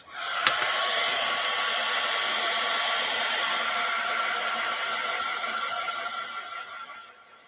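A craft drying tool blows air in a steady, fairly quiet whirring rush that starts with a click and runs unchanged for several seconds before winding down.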